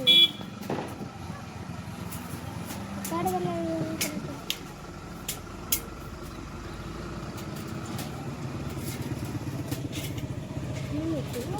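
An empty vehicle approaching on a road, with engine noise and short horn toots passing nearby, under people talking outdoors.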